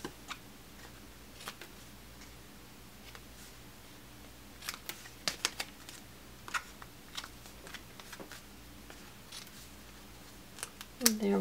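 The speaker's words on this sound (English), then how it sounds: "And now I'm going to trim each point here." Scissors trimming the points of a folded paper kite card, a series of short crisp snips and papery rustles spread unevenly across the span, close and fairly faint, ending with a louder clatter of handling.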